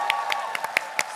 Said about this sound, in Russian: Давайте покажем, как надо аплодировать.